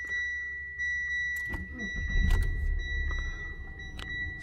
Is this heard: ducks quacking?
no